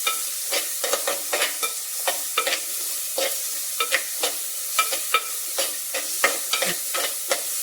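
Ingredients for a drumstick tomato curry sauté in a hot pan, a steady sizzle broken by frequent sharp scrapes and taps of stirring in an uneven rhythm.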